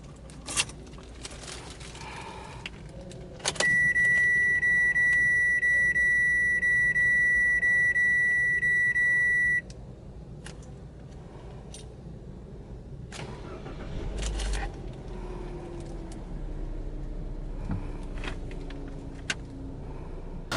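A 2023 Nissan Livina 1.5 VE automatic engine cranks and catches, settling into a steady idle, while a loud continuous electronic chime rings for several seconds over it.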